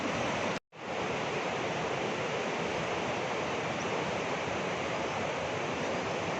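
A rushing Himalayan river in Great Himalayan National Park, Kullu, pours with a constant, dense hiss. It drops out completely for a split second early on, then continues steadily.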